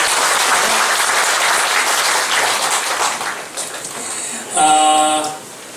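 A church congregation applauds to welcome a newly registered member, a dense, steady round of clapping that thins toward the end, with a brief tonal chime or music swell near the close.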